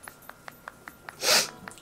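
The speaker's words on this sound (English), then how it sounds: "Are you almost done sneezing?" One sharp, close sneeze bursts out over a faint, steady series of soft rhythmic ticks in the background.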